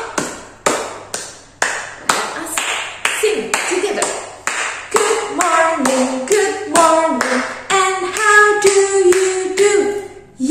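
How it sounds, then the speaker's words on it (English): Kindergarten children clap their hands in a classroom, a run of sharp, evenly spaced claps that keep a steady beat while voices sing and talk over them. "clap your hands"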